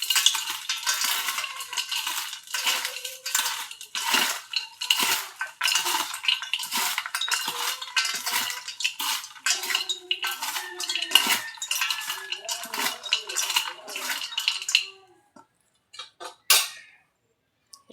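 A spoon clatters rapidly against a bowl while smashed Kurkure and Lays snack mix is stirred, a steady run of bright scraping clinks for about fifteen seconds before stopping, followed by a couple of faint knocks.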